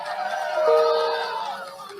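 A crowd at a political rally claps and cheers, a broad sustained roar that swells in the middle and then tapers off, with voices shouting within it.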